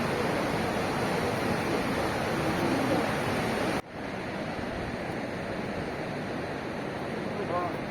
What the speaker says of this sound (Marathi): Indus river